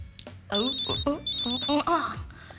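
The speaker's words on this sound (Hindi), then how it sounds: "टिया का फोन है तुम्हारे लिए।" A telephone rings with a repeated high electronic tone in a domestic television drama scene, two short ring bursts over background music and voices.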